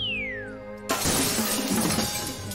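A dish shatters with a sudden loud crash in the Doraemon Story of Seasons video game, breaking over soft background game music with a bright, clattering tail that rings on for over a second.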